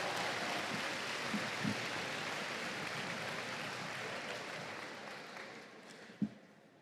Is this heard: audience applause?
yes